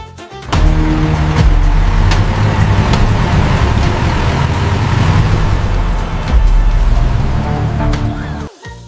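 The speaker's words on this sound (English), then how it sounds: "This is a tank." A military tank's engine rumbles loudly and continuously with rough, gritty mechanical noise throughout and no one speaking.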